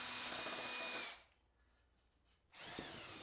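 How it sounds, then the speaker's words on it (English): A drill-powered spindle sander whirs loudly, stops for about a second and a half, then spins up again with a steady high whine. "then tried out one of these drill-powered spindle sander attachments"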